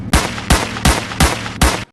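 Pistol gunfire aimed at a KTM Duke motorcycle: five loud, sharp shots spaced about evenly, each booming briefly before the next, with no talking.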